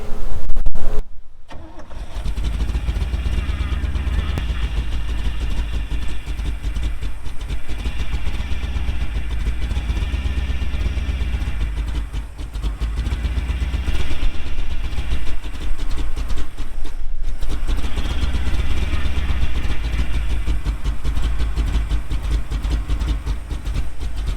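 A 1975 square-body dump truck's heavy diesel engine rumbles steadily at idle, loud and close, with a deep constant drone and occasional rattling throughout.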